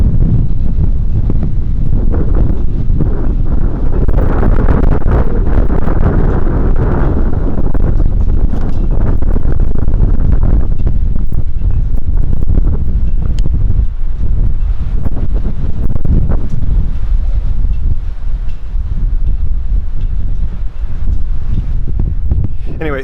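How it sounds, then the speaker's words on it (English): Heavy wind buffets the microphone with constant loud, low rumbling and gusty roaring throughout, with no pause. "I don't know if you can hear me because of the wind,"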